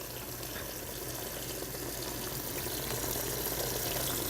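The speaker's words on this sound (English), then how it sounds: "So we're just going to put a bit of water in here just to fill it up" Warm water running steadily into a Scrubba wash bag, a continuous close gushing and splashing that holds at an even loudness throughout with no talk.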